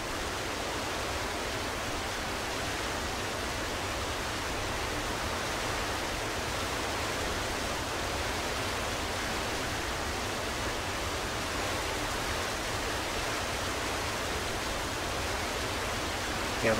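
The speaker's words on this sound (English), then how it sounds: "Here's the other waterfall." Waterfall in the video game Bigfoot, a steady broadband rush of falling water, loud and continuous throughout with no talking.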